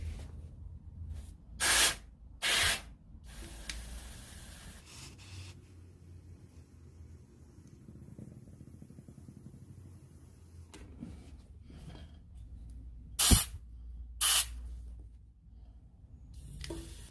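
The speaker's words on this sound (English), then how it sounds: "I'm just going to try pump the tyre up with this" A pump inflates a Suzuki Quadrunner ATV tyre in a few short bursts of loud hissing air, split by quiet stretches and faint handling sounds close by, with no talk.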